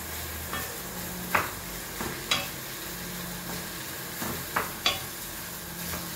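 Lightly salted vegetables sizzle in a pan while being stirred, a steady fry hiss punctuated by several sharp scraping clinks of the utensil spaced irregularly through the clip, close and moderately loud.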